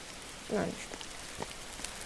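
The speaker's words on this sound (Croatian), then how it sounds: "Posle snijega kiša odmah." Rain in a horror survival video game, a faint, steady hiss of falling water that fills the whole clip, with one brief muffled thump early on.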